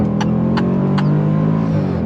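A 2022 Range Rover Sport SVR Ultimate accelerates hard on throttle, a loud, steady engine roar heard from inside the cabin, with a few sharp clicks over it.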